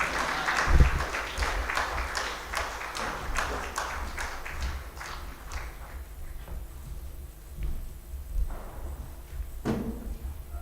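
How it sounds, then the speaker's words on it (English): An audience at the Zanzibar Trade and Investment Forum 2022 claps as the guest of honor enters the hall: brisk, rhythmic clapping for several seconds, then thinning to a few scattered claps in a quieter room. "Can we clap our hands as our guest of honor is coming into the hall?"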